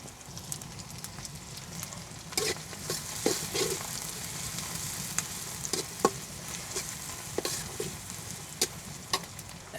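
Onions and green chillies fry in oil for a Bangladeshi shing fish curry with potatoes and taro. A steady soft sizzle runs throughout, with scattered sharp pops and stirring clicks.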